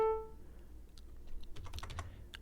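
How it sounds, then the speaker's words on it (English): Computer keyboard keys are pressed, number and arrow keys, while entering notes in Finale notation software: a short tone at the start, then scattered light clicks and a quick cluster of taps, close and quiet, with no talking. "hit the number 5 on your keyboard, and you get a quarter note"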